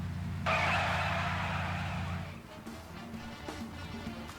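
A car in the Sam & Max video game brakes to a stop, giving a loud, sustained skidding screech over engine hum for about two seconds before it cuts off and the idle settles.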